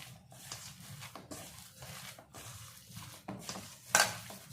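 Rice flour and green pea dough with salt being mixed and kneaded by hand in a bowl, giving soft, irregular rubbing and squishing sounds close by, with a sharper clink near the end.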